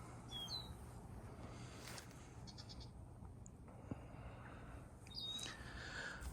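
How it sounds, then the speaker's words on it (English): Faint chirps and calls of birds outdoors over a steady low background hum, with a few brief high tweets scattered across the stretch. "Listen to the birds."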